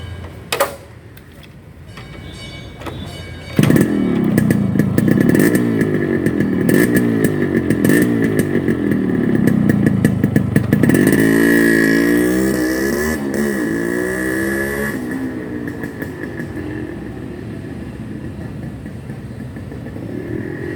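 A Yamaha RX100 two-stroke motorcycle starts up and is ridden on a test ride, its buzzing engine revving and rising through gears, then easing off into a steadier drone, close and loud.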